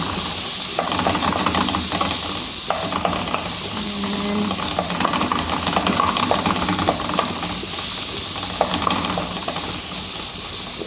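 Oil sizzling and hissing in a pan while sautéing onions for a mung bean and squash dish, a steady, close frying hiss with faint stirring clinks throughout.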